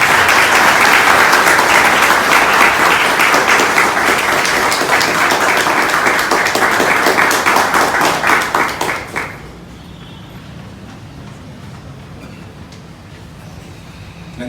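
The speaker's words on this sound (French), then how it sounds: "Je vous demande de l'applaudir" Audience at a school presentation event applauding loudly and steadily, a thick wash of many hands clapping close by for about nine seconds before fading abruptly into quiet room tone.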